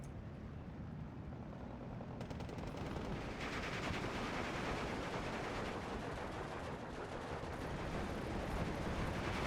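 Artillery fire landing in the Steel Division II wartime strategy game, a continuous rumbling barrage of distant blasts and crackling gunfire with no break, fairly faint overall.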